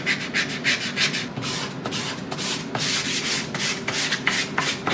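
Wood being sanded by hand in a woodworking workshop, smoothing the surface all over: steady close rubbing strokes in a continuous rhythm, each pass a soft scratchy swish, with no talking.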